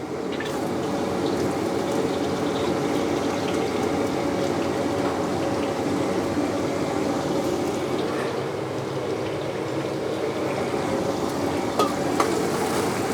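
Chopped onion sautés in a generous amount of hot oil in a pan at the start of a Hainanese chicken recipe, a steady close sizzle with faint stirring scrapes throughout and no talking.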